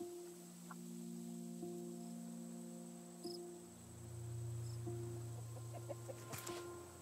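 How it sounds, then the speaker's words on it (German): A chicken clucks inside the survival game Raft, heard faintly beneath steady tonal game ambience and a low droning hum, with a few brief clicks near the end. "Habt ihr genauso wie ich gerade einen Huhn gehört?"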